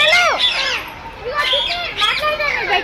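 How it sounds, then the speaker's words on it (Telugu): Parrots at a zoo in Warangal squawk loudly and close by, a quick run of harsh, rising and falling calls that overlap in a noisy chatter. "అరే ప్యారెట్ మాట్లాడుతున్నారా? ప్యారెట్ మాట్లాడుతున్నారా?"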